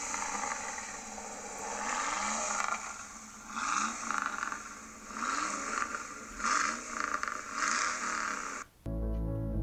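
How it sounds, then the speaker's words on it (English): A Dodge Ram truck with a 5.2-liter 318 V8 Magnum engine and dual exhaust tips exiting the side, rumbling quietly with several rising revs before an abrupt cut. "they sound really good with exhaust and dual tips poking out the side like a NASCAR"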